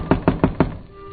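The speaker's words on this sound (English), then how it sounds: "I knocked at the door" Four firm knocks on a door in steady rhythm, close and clear, then a brief quiet pause with faint background hum.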